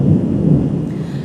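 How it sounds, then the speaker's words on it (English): Deep, steady thunder from a building thunderstorm rumbles low and continuous, loud and heavy throughout, with no talk. "This is like a massive thunderstorm in the making."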